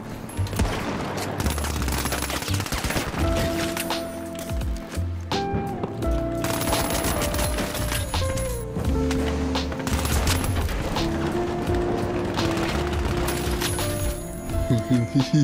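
Rapid gunfire from The Finals video game, with bursts of automatic fire and single shots rattling almost continuously, loud and dense, along with explosions and mechanical game effects. Players talk over it in places.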